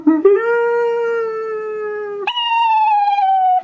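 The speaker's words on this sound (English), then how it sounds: "Check it out, with a howling wolf." A wolf howl from a novelty greeting card rings out as two long, steady, tonal howls, the second starting higher and sliding slightly down, loud and close with no talking.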